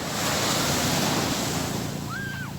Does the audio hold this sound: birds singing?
no